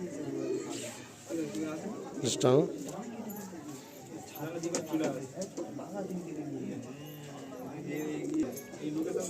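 Soft cooing of Nazra Kaldom long-size pigeons, low warbling calls repeating in the background under nearly continuous talking close by.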